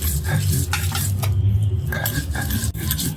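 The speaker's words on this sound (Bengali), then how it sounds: "এদিকে পেঁয়াজ রসুন বেটে নিচ্ছি মরিচ ধনিয়া পাতা আর সর্ষা সব একসাথে বেটে নিচ্ছি" Onion, garlic, chili, coriander leaves and mustard being ground together into a paste, a steady close scraping and stirring texture with faint utensil clinks and no talk.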